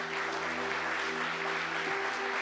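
Church congregation applauding during a Spanish-language service, a steady wash of clapping mixed with a low sustained organ or keyboard tone underneath.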